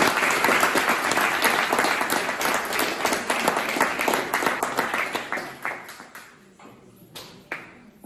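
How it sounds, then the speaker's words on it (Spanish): Loud applause greets a guest at a literary gathering, a dense wash of clapping from the audience that thins toward the end into scattered individual claps. "Vamos a recibir a Enrique con un fuerte aplauso."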